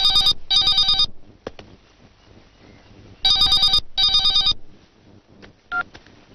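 A telephone rings with two pairs of sharp, electronic trilling bursts separated by a pause, close and loud, followed by faint clicks and a short tone.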